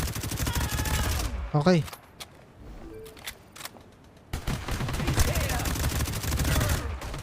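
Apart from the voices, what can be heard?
gunfire in GTA V Online video game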